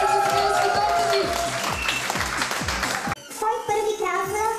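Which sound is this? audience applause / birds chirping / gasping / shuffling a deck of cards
audience applause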